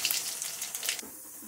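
Black cumin and dried red chillies tempering in hot oil in a Bengali kitchen, a brief, quiet hissing sizzle close by that cuts off abruptly after about a second, leaving a faint low background.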